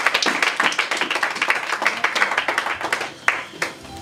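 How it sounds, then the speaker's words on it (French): Church congregation claps and applauds with rapid, uneven hand claps for several seconds, and a few sharper claps stand out near the end. "Est-ce qu'on peut acclamer la parole?"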